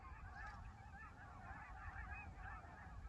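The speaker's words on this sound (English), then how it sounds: "the birds are so loud here" A flock of geese honks continuously on a wetland island, the calls overlapping in a dense, distant chorus with no voices.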